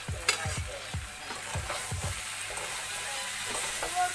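Fig and prawn curry masala is stir-fried in a pan, with a run of rhythmic scraping stirs over the first two seconds, then a steady sizzle that carries on alone with a few lighter scrapes.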